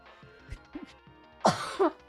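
A couple of short, rough coughs and throat clearings close by, with small breathy sounds before them and no speech.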